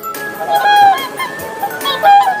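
A goose honks a few times in short nasal blasts, loud and close, with brief pauses between calls.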